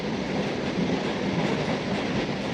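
A nearly empty moving passenger train gives a steady, loud rumble and clatter of wheels on rails, continuous and unbroken with no voices.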